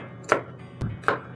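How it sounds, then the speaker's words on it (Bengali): A knife chops medium-sized onions on a cutting board, making three sharp, separate knocks spaced a fraction of a second apart, close and clear with no voices. "আমি এখানে 2 মিডিয়াম সাইজ পেঁয়াজ কুচিয়ে নেব আর 2 টমেটো কেটে নেব"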